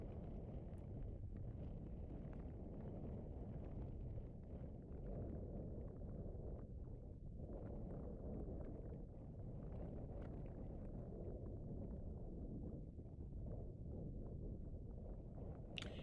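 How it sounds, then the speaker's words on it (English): Strong wind buffets a shotgun microphone at a desert oasis where donkeys gather at water, a steady loud low rumble running the whole time with no voices. "It's very windy today."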